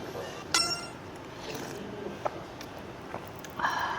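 Soju glasses clinking in a toast over fried chicken at a pub, a few light, sharp chinks scattered over quiet background, faint and brief.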